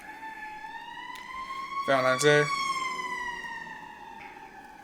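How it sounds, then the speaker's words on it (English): A passing ambulance or fire truck siren wails with rising and falling tones, loudest mid-pass and fading as it moves off, while a person talks over it. "that was an ambulance,"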